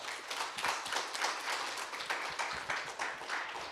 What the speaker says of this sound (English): Please give Panel 6 a big round of applause.